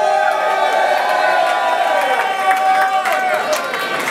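A crowd at a VIP reception cheers and whoops loudly and steadily, a dense wall of voices shouting together close by for the whole stretch.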